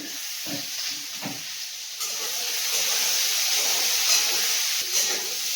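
Eggplant sizzles in hot oil, a steady hissing fry that grows louder after a couple of seconds, with a few soft stirring knocks.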